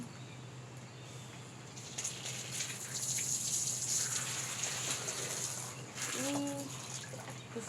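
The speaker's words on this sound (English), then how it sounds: "So I have my watering can filled with some water." Water pours from a watering can onto strawberry seeds, a faint soft gushing splash swelling midway and continuing quietly.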